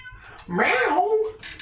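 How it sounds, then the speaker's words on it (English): A cat gives one short, rising-and-falling meow, close and fairly loud, followed by a brief hiss of noise. "Kitty cat! That's a good cat, then."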